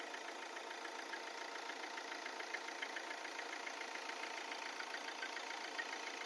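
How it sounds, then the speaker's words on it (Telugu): Diesel engine of a Hyundai i20 Asta car idling at a steady, even hum, heard up close and alone with no talk over it. "ఇంజన్ కూడా చాలా స్మూత్గా ఉంటుంది."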